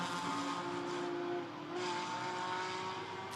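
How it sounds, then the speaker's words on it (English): GT4 race cars at the Monza second chicane during a European Series race, engines droning and shifting as they brake and accelerate through, a continuous moderately distant roar. "They've got their GT4 cars into the 2nd chicane."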